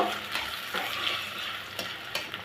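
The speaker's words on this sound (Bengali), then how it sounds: "এদিকে তেলটা গরম হলে দিয়ে দিব পেঁয়াজ কুচি কাঁচামরিচ ফালি পেস্ট আমি একটু হালকা বেজে নিব" Chopped onion, sliced green chili and paste frying in hot oil, a steady close sizzle broken by stirring scrapes and a few louder bursts, no talking.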